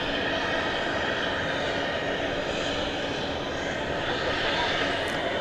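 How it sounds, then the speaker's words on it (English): An airliner departing Dallas Fort Worth Airport at night on a flight to Sao Paulo, its engines a loud, steady, broadband roar that holds evenly across the whole stretch. "there goes the flight to Sao Paulo"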